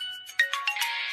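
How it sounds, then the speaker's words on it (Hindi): A mobile phone rings with a short, bright electronic melody of quick chiming notes, clear and close with no other sound. "फोन उठाऊं कि नहीं उठाऊं, उठाऊं कि नहीं उठाऊं?"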